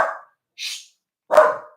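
Dogs bark indoors during a live broadcast, two or three short, separate barks and yips close by, with no talk over them.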